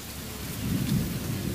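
An approaching thunderstorm outdoors, a deep rolling rumble of thunder swelling over the steady hiss of falling rain, loud and continuous with no voices.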